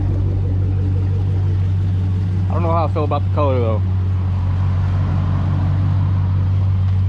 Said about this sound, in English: good sounding exhaust right there